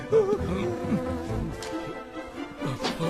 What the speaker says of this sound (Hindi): मधुमक्खी, भगाओ उसे।